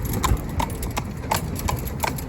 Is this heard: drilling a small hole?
no